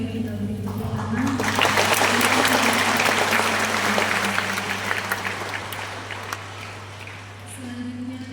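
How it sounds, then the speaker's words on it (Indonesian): An audience at a Catholic Mass in Pontianak, West Kalimantan, breaks into sustained applause that swells and then tapers off, with a steady electrical hum underneath and a voice speaking briefly at the start and end. "Boleh sekali lagi kita beri tepuk tangan."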